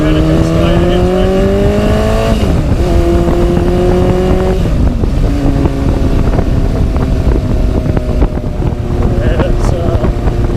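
Yamaha XS1100 cafe racer motorcycle engine while riding at around 80 km/h, a loud droning engine note that shifts pitch with throttle changes, heavy wind buffeting over the microphone.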